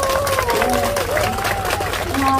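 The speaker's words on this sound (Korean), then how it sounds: "다시 한번 박수요" An audience applauds at a live stage show of songs and talk: dense, steady clapping that fills the whole stretch, with a sustained voice or melody line faintly riding over it.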